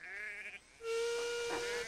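A cartoon steam engine's whistle, beginning with a short bleating toot and then breaking into one long, loud, steady shriek that holds to the end.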